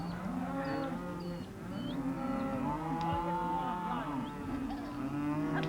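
A herd of cattle low repeatedly while being drafted into pens, overlapping moos near and far over a continuous rumble, with a few high calls above; no talk.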